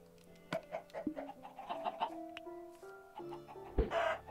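Minecraft chickens clucking in a survival game, a run of short tonal clucks and blips over about four seconds with a louder burst near the end, mixed with other game sounds and no talk.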